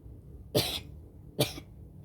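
Two sharp, raspy coughs about a second apart, close and fairly loud, with quiet between them.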